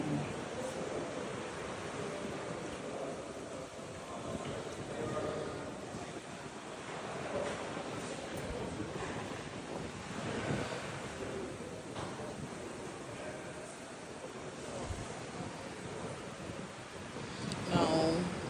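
Ocean waves break along a beach in Ocho Rios, Jamaica, a steady surf wash mixed with wind buffeting the microphone, with a stronger swell near the end.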